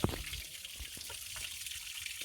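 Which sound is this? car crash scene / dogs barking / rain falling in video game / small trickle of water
small trickle of water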